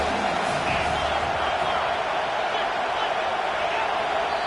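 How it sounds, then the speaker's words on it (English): Steady crowd roar fills a college football video game stadium, a dense continuous wash of noise that runs throughout beneath a commentator's voice. "The crowd noise feels louder"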